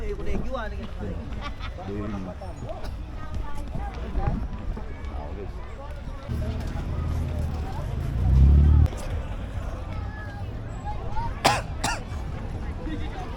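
A person coughs once or twice amid talking and busy outdoor crowd noise on a street in Baguio City, Philippines.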